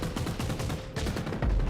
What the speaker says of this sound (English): This cannon doesn't seem to be firing as often.